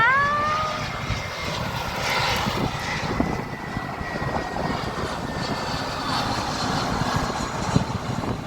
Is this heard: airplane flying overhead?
yes